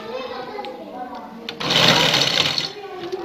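Sewing machine stitching the hem of a shalwar leg, a steady close mechanical whir that swells louder for about a second mid-clip before easing back.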